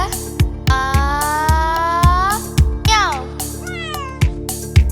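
Repeated cat meows rise and fall over a steady song backing with a thumping beat, several drawn-out mews clearly audible amid the music.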